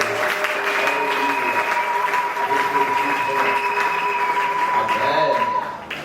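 Church congregation applauding the Lord during a Sunday morning service, sustained crowd clapping with cheers and voices mixed in, steady and loud before fading at the end.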